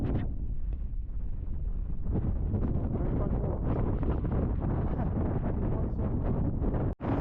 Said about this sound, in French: je pensais pas qu'il y avait autant de vent